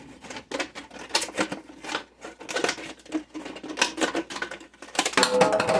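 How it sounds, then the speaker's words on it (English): Kitchen shears snip rapidly through material, a dense run of crisp crunching cuts close up, steady and unbroken for several seconds. "I'm going to take my kitchen shears"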